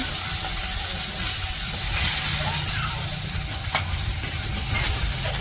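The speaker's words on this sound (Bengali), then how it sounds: "মাছ ভাজা হয়ে গেছে, নামে নিতেছে।" Fish frying in a pan gives a steady, close sizzle and hiss that runs the whole time, with faint kitchen clatter and low background noise beneath it.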